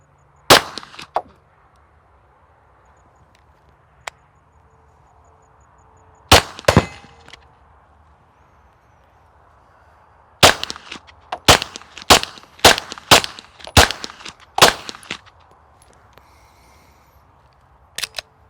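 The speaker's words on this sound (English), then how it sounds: "we've got a Glock 19 here with the Rad 9 with standard velocity ammo." Suppressed Glock 19 pistol fitted with an OSS Rad 9 suppressor, firing standard velocity ammunition: about a dozen sharp cracks, a few spaced early shots and then a rapid cluster, with quiet pauses between bursts.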